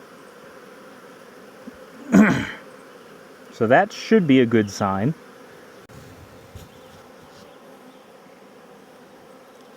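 Honey bees fly in and out of a busy hive entrance in a beekeeping yard, a steady low buzz running throughout while someone speaks briefly in the middle.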